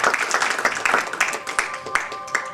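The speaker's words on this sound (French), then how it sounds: "Je tiens si possible à l'applaudir" Applause from an audience at a poetry event in Carnac, France, a steady patter of many hands clapping at moderate volume that carries through the whole short stretch.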